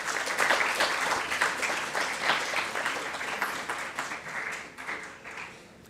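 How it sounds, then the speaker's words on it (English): A crowd at a genocide commemoration ceremony applauds a police band, dense, sustained clapping that holds steady, then gradually thins and fades out near the end. "Please give them a round of applause."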